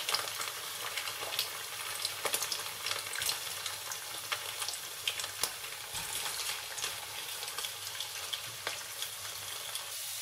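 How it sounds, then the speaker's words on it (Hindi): Taro (arbi) pieces fry lightly in oil in a pan, producing a loud, continuous crackling sizzle dotted with brief stirring scrapes throughout, with no voices. "इसको हल्का सा फ्राई करेंगे क्योंकि जो इसकी लेसपन है वो खत्म हो जाए।"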